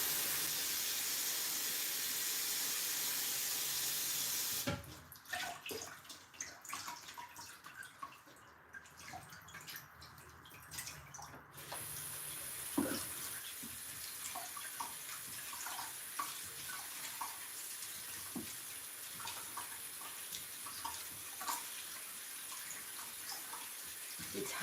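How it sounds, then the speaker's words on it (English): Potatoes washed under a running tap. A steady gush of tap water is followed by splashing, dripping and rubbing as the potatoes are handled in the stream, close by with no talking. "Let me wash them first."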